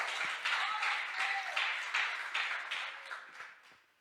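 A congregation applauding in a church: steady, moderately close clapping with a loose rhythmic pulse that continues for a few seconds and then fades out.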